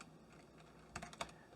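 Terminal commands are typed on a computer keyboard in a few quick, close, faint key clicks clustered together after a quiet pause.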